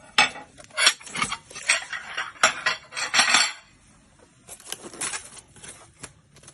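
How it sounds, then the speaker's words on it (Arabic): Ceramic plates from a three-colour dish set clatter and clink as they are handled and set aside, with a burst of sharp close knocks, then a short quiet gap and more clinks, with no talking. "خلاص اخد حط الطبقين دول عندك على جنب."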